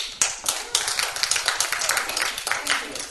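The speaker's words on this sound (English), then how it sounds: "let's clap for her, please." Audience clapping for a woman who has just finished speaking at a parallel session of the WEF-2017 forum. Uneven clapping from several people nearby, with sharp individual claps standing out, lasting about three seconds.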